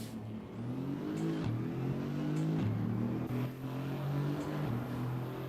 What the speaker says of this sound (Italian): È un V8 biturbo, ma il suono della mod non è veramente alto, senti?